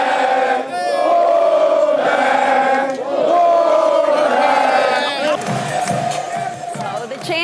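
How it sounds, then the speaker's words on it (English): A crowd of supporters cheers and shouts for the returning NC State Wolfpack basketball team in Raleigh after an ACC tournament win, a dense, loud, continuous roar of whoops and voices. "The team returned to a cheering crowd of supporters."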